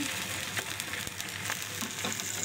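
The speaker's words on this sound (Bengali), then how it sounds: "তারপরে আমি ওই মিষ্টি পান্তুয়াটার জন্য ডিমটা ভেজে নিয়েছি" An egg frying in a pan for a sweet dessert, giving a soft, steady sizzle with faint crackles and occasional stirring, quiet and with no voices.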